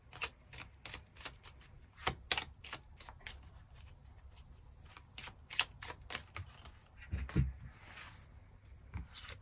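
Tarot cards shuffled and drawn close up on a table, a steady stream of quick crisp flicks and riffling snaps for several seconds, with soft sliding between sharper clicks and no talking.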